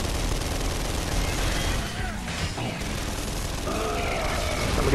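Dense video game gunfire from Gears of War 3 Horde mode on the Oldtown map, a continuous loud rattle of automatic shots and booms, with players talking over it.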